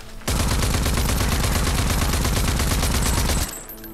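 Rapid automatic gunfire in the video game Rage 2, a loud, dense, continuous burst of shots lasting about three seconds before cutting off abruptly.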